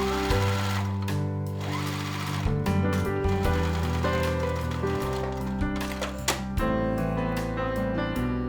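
Sewing machine stitching a tote bag, a loud, close, steady mechanical whir with a rhythmic hum that briefly pauses and restarts.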